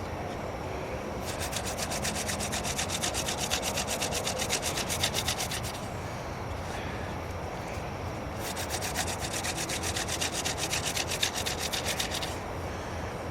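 A stone drill bores into walnut wood, giving a steady, close scraping and grinding rub that runs in long continuous stretches with brief pauses between passes.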